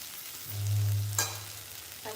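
Oil is poured into a pan of food, which sizzles and fries in a short burst after a low hum, heard close and alone.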